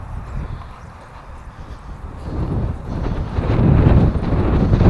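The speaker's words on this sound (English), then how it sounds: "Very windy today" Steady low rumbling wind buffeting the microphone, growing louder and gustier toward the end, with no voices.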